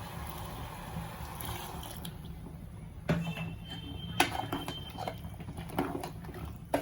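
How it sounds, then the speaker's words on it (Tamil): Water is poured into a pan of veg kurma holding a ground paste of coconut, fennel, ginger, garlic, cashews, poppy seeds and green chilies, giving a steady close splashing patter with a few sharp clinks and no voices. "தண்ணி ஊற்றிக்கணும்."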